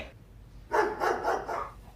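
A dog barks in a few quick, fairly quiet bursts after a short pause, with no voices alongside.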